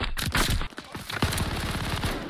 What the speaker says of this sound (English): I know the MG42 had a crazy fire rate in real life